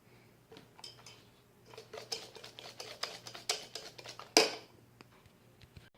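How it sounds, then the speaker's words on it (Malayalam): A spoon works mashed banana and vanilla essence into muffin batter for banana cinnamon muffins. It makes a quick series of close, irregular clicks and scrapes against the bowl, with one sharper clack near the end before the stirring fades. "ഇനി ഇതിലേക്ക് മാഷ് ചെയ്ത് വെച്ചിരിക്കുന്ന പഴവും ഈ വാനില എസൻസും കൂടെ ഒഴിച്ചിട്ട് അതും മിക്സ് ചെയ്യണം"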